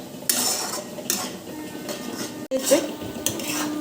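Cauliflower being stirred and sautéed in a pan with spices and salt, metal utensil scraping and clinking against the cookware in repeated strokes, fairly close with a soft background sizzle.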